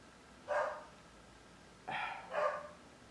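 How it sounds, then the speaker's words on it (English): A small dog barks a few times at a distance: one bark, a pause, then two quick barks, with quiet background between. "I'm sorry if you can hear Honey barking away there"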